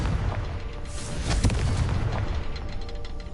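A Confringo blasting spell goes off in Hogwarts Legacy, a deep rumbling boom that swells and lingers with crackling debris over a few seconds, loud and close with no talk.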